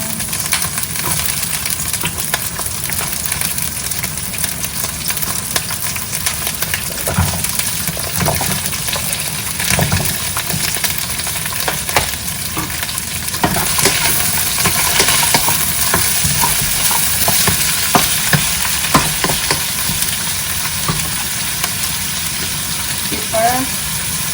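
Onions, squash and string beans are stir-fried in a pan with a loud, constant sizzle. Scraping stir strokes and bursts of crackling rise over it now and then.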